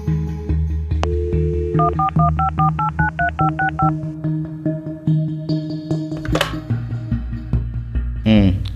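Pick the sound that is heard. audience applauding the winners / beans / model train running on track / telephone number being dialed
telephone number being dialed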